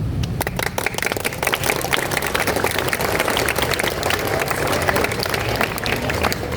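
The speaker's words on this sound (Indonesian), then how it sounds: "Tepuk tangan dong." Steady applause from a crowd at a school flag ceremony at SMP Negeri 75 Jakarta, many hands clapping continuously at an even level throughout.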